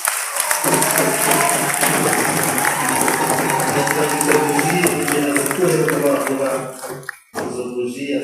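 At a Rwandan wedding for a military officer, guests applaud in a loud, sustained burst of crowd clapping, mixed with voices and music, before it cuts off abruptly near the end and resumes briefly.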